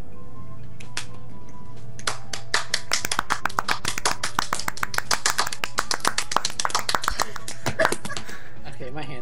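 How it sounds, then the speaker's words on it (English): A group claps rapidly and irregularly for several seconds, the crisp slaps building into a burst of applause, with voices audible at the start. "Everyone clap."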